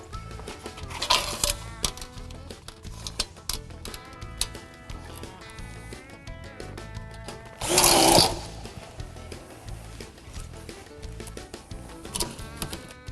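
A power driver sets screws into TruLog steel log siding in short intermittent bursts. One louder, longer grinding whir lands near the middle, and quieter handling sounds fill the gaps.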